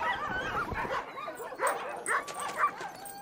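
Sled dogs chained in an Arctic village bark, yip and whimper excitedly, several close overlapping calls in uneven bursts.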